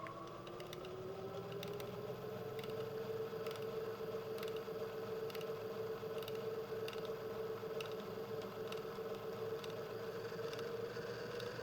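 A stepper-style motor runs open loop at a set speed, giving a faint, steady mechanical whir with a tone that rises slightly at the start, then holds with light regular ticking throughout.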